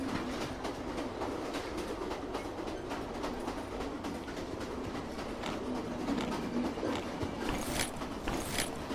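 Train rolling along in the post-apocalyptic game The Final Station, a steady mechanical rumble and rattle that runs throughout, with faint clicks and chirps over it.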